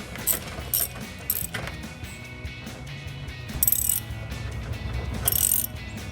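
A ratchet works the 15 mm rear bumper bolts on a 2009-2018 RAM 1500 in several short bursts of rapid clicking, with pauses between them.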